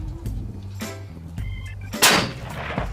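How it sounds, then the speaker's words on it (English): A single sharp rifle report from a Seekins Precision rifle in 6.5 Creedmoor during outdoor ammo testing, loud and close with a brief ringing tail, over a low background hum. "Gun shoots, bud."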